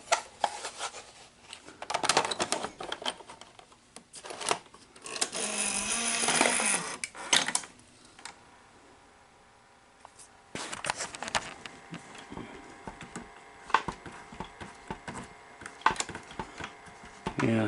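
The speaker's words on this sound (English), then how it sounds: "let's just see if we can get the tape to" An NEC VC-N70EU Beta HiFi Betamax VCR with a replacement round belt struggles to thread a tape, its binding mechanism whirring, grinding and clicking in bursts, with a quiet pause partway and then renewed clattering motor activity.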